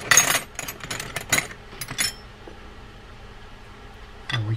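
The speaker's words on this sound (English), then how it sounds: "I'm going to grab a 14 millimeter wrench" A 14 millimeter wrench handled while servicing a vintage Penn Silver 105 spinning fishing reel: a quick burst of close metallic clinks and taps, a quiet pause, then another brief clatter.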